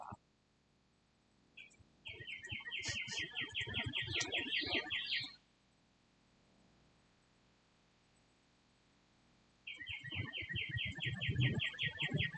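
Rapid, high-pitched bird trills come in two bursts separated by a quiet pause, with murmured voices and low noises beneath them.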